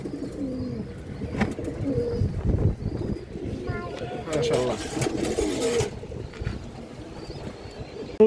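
Pigeons coo softly in the background at a pigeon farm while someone talks over them, with some rustling and shuffling nearby.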